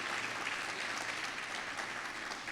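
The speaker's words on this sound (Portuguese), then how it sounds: "Aplauda o Senhor, querido," Church congregation applauding at a Brazilian Portuguese teaching service, a steady dense wash of clapping that fills the whole stretch at moderate level.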